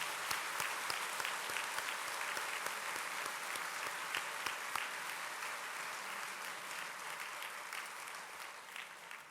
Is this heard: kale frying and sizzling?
no